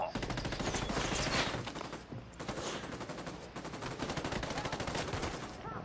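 Rapid gunfire from a mounted gun in the Ghost Recon Wildlands video game, dense bursts of shots running almost continuously and loudly through the clip with brief dips between volleys.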